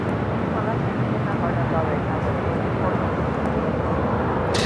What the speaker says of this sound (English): That was Delta Airlines Flight 413 heading to Minneapolis, 737-900ER.